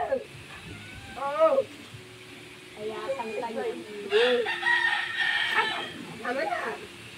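Chickens and a rooster squabble in a Filipino yard, with repeated crowing, clucking and excited squawks at close range, and faint background noise and voices beneath.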